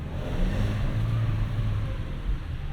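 A 2024 Nissan Versa's 1.6-litre engine with a five-speed manual hums low and steady while driving on a morning commute, mixed with road and wind noise inside the cabin, with no talking.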